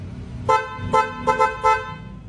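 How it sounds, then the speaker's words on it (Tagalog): Four short horn blasts from a dual snail horn on a motorcycle, loud and close, the middle two coming in quick succession over a low engine rumble. "dual snail horn"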